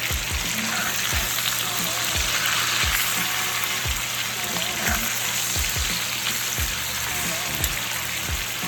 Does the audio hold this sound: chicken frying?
yes